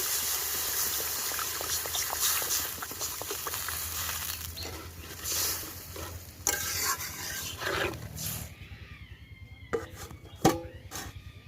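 Olives for a sweet-sour-spicy olive pickle, lightly fried in oil and then simmered in water, give a steady close sizzle with stirring scrapes, easing into softer bubbling and a few sharp clinks near the end.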